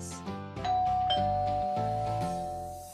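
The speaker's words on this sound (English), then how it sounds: "the doorbell rings." A doorbell chimes inside a home, with ringing tonal strikes and sustained ding-dong notes over a soft musical backing, clear and close for a few seconds.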